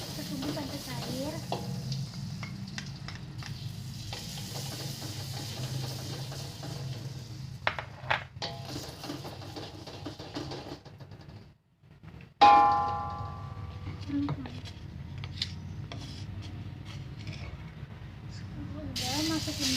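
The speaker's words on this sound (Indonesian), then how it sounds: "Masukin margarinnya dulu. Kita tunggu sampai cair." Margarine melting in a hot pan, a soft steady sizzle and hiss with occasional stirring clinks and scrapes, quiet and close.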